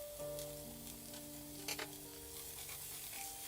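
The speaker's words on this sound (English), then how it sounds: "In the hot pan, add some olive oil, add onion, and then stir it a little bit." Onion frying in olive oil in a hot pan for spicy stir-fried squid, a quiet steady sizzle with a few short scrapes of stirring, close and alone.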